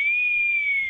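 Someone whistles a single sustained, clear high tone for under a second, steady and fairly loud with no talking.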